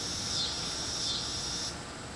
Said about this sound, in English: As cicadas start up again.